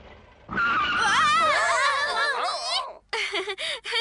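A cartoon car lurches and skids as a mother character learns to drive, a loud swerving screech with wobbling tones running for about two seconds, then choppier jolts, with giggling and cartoon voices mixed in.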